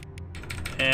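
Computer keyboard keys clack in a quick, close run of separate taps that is mostly alone, before a brighter game interface tone comes in at the end.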